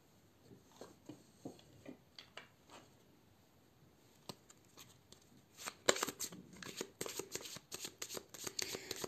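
Tarot cards being shuffled for a weekly reading, soft scattered riffles and slides at first, then denser, louder rapid shuffling toward the end, close and alone without talk.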